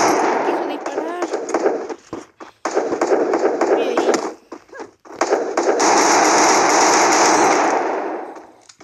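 Rapid bursts of automatic gunfire from a Free Fire battle-royale match, loud and dense, broken by short pauses around the second and fifth seconds, with a voice speaking over the shooting.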